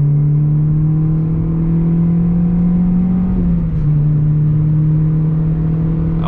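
A Renault Clio 3 RS engine drones steadily and loudly while driving, holding an even pitch with a brief dip partway through, heard alone without talk.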